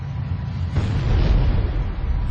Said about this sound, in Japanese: すげえ爆発だぜ。